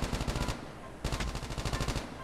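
Automatic rifle fire in the mobile shooter COD Mobile: two rapid bursts of evenly spaced shots, each lasting about half a second to a second, separated by a short gap, fairly close and loud.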